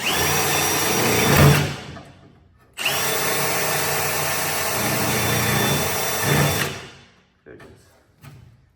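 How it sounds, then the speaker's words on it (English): A power drill whines steadily through two long runs with a brief pause between, biting into the metal body of a Nissan S14, then spins down. "you hit it with the drill spinning really fast and very, very light effort until it's cutting"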